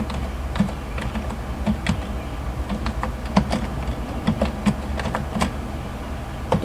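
Steady, rapid typing on a computer keyboard while writing HTML code, with close, crisp key clicks in an irregular rhythm and no voices.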